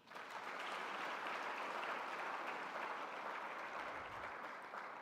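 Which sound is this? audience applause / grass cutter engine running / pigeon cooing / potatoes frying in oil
audience applause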